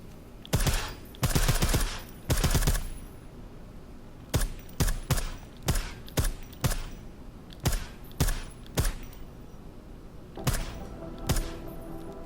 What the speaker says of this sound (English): I like how silencers reduce sound, but the trade-off is less stopping power, less damage per hit.